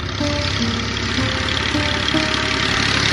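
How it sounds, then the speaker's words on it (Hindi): A tractor engine runs steadily at close range while a second tractor loads soil into a parked trolley at a house construction site in Punjab, Pakistan, a continuous mid-to-low rumble with faint knocking throughout. "वो दूसरा ट्रैक्टर इसमें मिट्टी भर रहा है"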